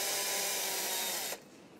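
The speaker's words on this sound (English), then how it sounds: "Applying pressure stops the drill from slipping and damaging the screw head." A power drill whirs steadily while driving a screw out of wood during a children's bedroom makeover, loud and close, cutting off abruptly near the end.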